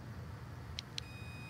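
Two short electronic chirps a moment apart, a replayed software-defined-radio capture of an alarm unlock code, sound over a low hum, followed by a faint sustained tone.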